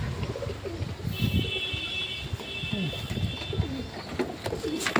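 Pigeons, including tagged breeding birds, coo softly in a loft, low rolling calls repeating through the clip amid light background noise, with no talk.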